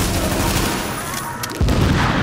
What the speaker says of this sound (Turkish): Bu kadar silah sesi falan geliyor hiç mi yani?